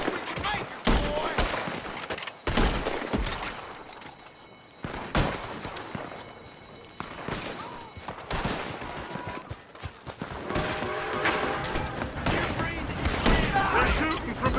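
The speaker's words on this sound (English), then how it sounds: "They're shooting from that building." Rapid bursts of gunfire ring out in Red Dead Redemption 2, sharp cracks and volleys repeating through the whole stretch with dense overlapping shots, game dialogue and shouting mixed under the shooting.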